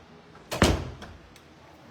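A closet door in an old house opens with a single short creak and knock, fairly close, in an otherwise quiet room.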